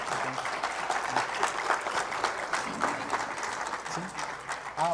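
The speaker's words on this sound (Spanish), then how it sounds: "Un fuerte aplauso, por favor." Audience applause at an engineering conference honoring an engineer, a steady wash of many hands clapping that holds for several seconds, with faint voices and brief murmurs mixed in near the end.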